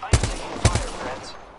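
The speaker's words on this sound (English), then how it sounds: "I'm taking fire, friends." Two short bursts of automatic gunfire in the video game Apex Legends, each a quick cluster of sharp shots, loud and close, followed by a fading tail.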